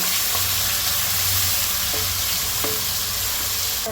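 Green chillies and onion paste frying in hot oil in a pan, with a steady close sizzle throughout and a few light clicks of a utensil against the pan.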